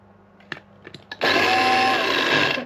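A Lidl SilverCrest mini chopper on its turbo setting whirs into a loud, steady high-pitched motor drone after a few light clicks and taps, running close up and without talk until it cuts off.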